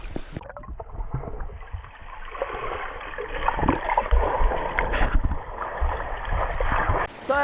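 Splashing from a swimmer in a life vest in very clear water near falls at Bolinao, Pangasinan: continuous close churning and sloshing that builds through the middle, with a brief gurgle at the end.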